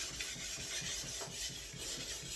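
A planer knife bevel is rubbed by hand on a sharpening stone in a steady back-and-forth rasping rhythm, soft and close, with no voices.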